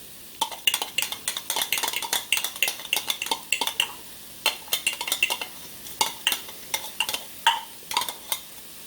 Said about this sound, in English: So we're sauteing them.